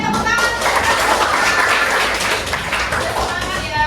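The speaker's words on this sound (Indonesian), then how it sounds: "Oke, tepuk tangan." A classroom of students clapping hands together in applause, a dense, steady patter of many hands close by that carries through without pause.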